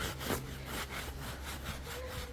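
A brush scrubs a dirty sofa in steady back-and-forth strokes, a continuous rough rubbing close by, with no talk.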